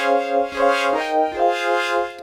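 A wavetable synthesizer plays chords built from Ableton Expressive Chords, with bright, sustained harmonic tones and several soft swells and re-attacks across a few seconds.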